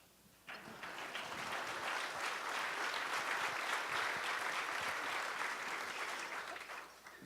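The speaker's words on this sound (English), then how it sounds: "That's an applause line." Audience breaks into sudden applause during a book talk with former Defense Secretary Donald Rumsfeld, a full, even burst of clapping sustained for about six seconds before fading.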